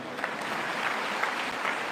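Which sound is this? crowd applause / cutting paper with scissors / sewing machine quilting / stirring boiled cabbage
crowd applause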